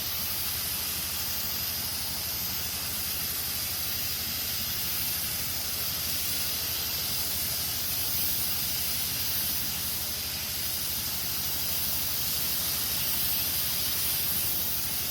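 A pesticide sprayer works a chili pepper field, giving off a steady, unbroken hiss of spray that holds at an even loudness throughout, with no voices.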